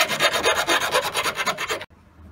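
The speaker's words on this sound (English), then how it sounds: "So it's cut in half and I'll just file it up." Quick, rhythmic rasping strokes of a file deburring a cut metal bicycle handlebar tube, close and loud, stopping abruptly near the end.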